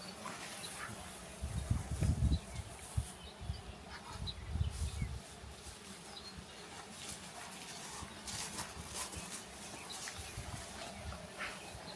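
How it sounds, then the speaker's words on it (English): Honeybees buzz around an opened hive during an apiary inspection, a steady close insect drone with a few louder passes, nearer wingbeats swelling early on. "There's still a lot of bees in here."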